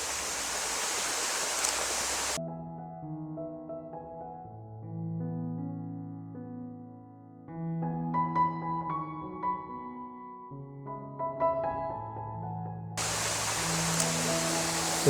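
Water pours down a waterfall as a steady roaring rush, heard loud at the start and again at the end, with melodic background music filling the long middle stretch.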